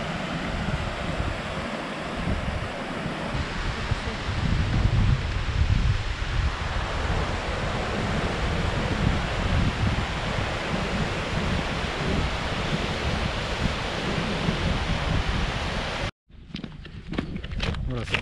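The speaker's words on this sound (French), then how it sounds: "ce ruisseau devient un torrent." A mountain stream at Lac de Vezoles rushing as a torrent, a loud continuous roar of water close by with a voice briefly heard near the end.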